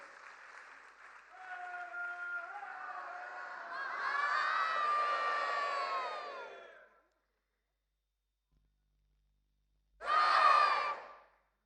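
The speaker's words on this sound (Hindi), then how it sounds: "एक बार जोरदार तालियों का आशीर्वाद इन सब को दें।" A crowd at a cultural festival in Varanasi claps and cheers loudly for several seconds, then falls silent before another short, strong burst of applause.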